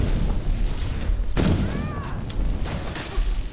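A fire spell blast erupts in the Skyrim video game, a loud booming burst with a rushing tail over steady game background noise.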